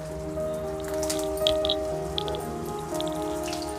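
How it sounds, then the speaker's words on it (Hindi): Aloo suji tikki patties frying in hot oil, with a steady soft sizzle and scattered small pops and crackles throughout, close and moderately loud. "इनको भी हम सेम उसी तरीके से फ्राई करेंगे"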